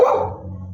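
A large dog lets out a single deep bark close by, and a low rumble trails off after it.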